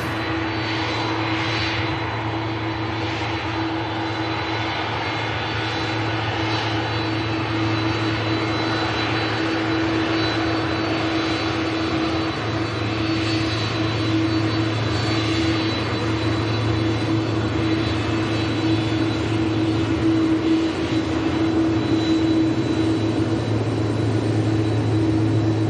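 Steady, loud jet engine roar from an Airbus A330 on the ground at Manchester Airport, holding a broad continuous rumble with a strong low hum throughout, no voices over it.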